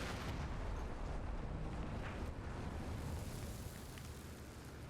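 An M113 armored personnel carrier is destroyed by an explosion in the Cold War combat game Combat Mission, heard as a dense, continuous roar of blast and rumble that stays loud throughout, then eases slightly near the end, with no voices.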